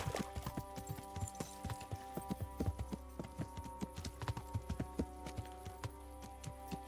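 Horse hooves clip-clop steadily at a walking pace in the medieval video game Kingdom Come: Deliverance, crisp regular hoof strikes over a low ambient hum, with no talking.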